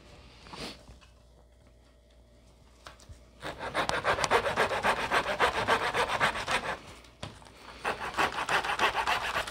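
A hand saw cuts through a tree branch being shaped into a large crochet hook: a few tentative strokes, then steady, close, rhythmic rasping back-and-forth sawing through the wood.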